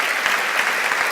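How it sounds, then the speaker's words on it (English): An audience bursts into dense, loud applause after a science lecture dialogue, with many hands clapping at once close by. "I'll let you get your applause here"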